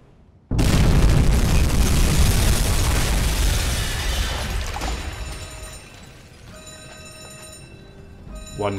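A torpedo strikes a ship in the submarine game UBOAT: a sudden loud boom erupts and rolls on for several seconds, slowly fading into a lower rumble with faint ringing tones and a small burst at the end.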